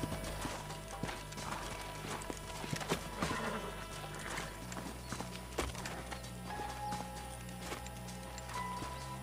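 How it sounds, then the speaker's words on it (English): Several horses clip-clop at a walk with an occasional whinny in the Red Dead Redemption video game, the hooves falling in a steady close rhythm over a low background music drone. "Let's hold up a minute and find a spot for our horses"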